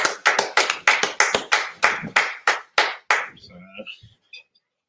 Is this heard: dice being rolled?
no